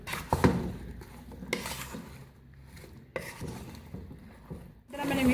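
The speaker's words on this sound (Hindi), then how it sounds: "अब इसको मिक्स करेंगे।" Potato and eggplant masala, with salt just added, being mixed in a pan: intermittent scraping and rubbing of a spoon against the pan in short bursts with pauses, close by.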